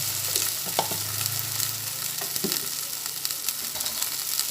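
Garam masala powder frying in hot oil for a bottle-gourd-peel kofta curry, a steady close sizzle with a few light scrapes of a spoon stirring, no voices.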